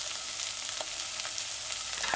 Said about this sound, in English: Stir it in, allow it to saute.